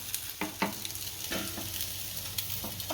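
Sabudana farali gota, sago fritters, fry in hot oil with a continuous bubbling sizzle. Scattered clinks and scrapes from a slotted spoon stirring or lifting them sound close by, with no talking.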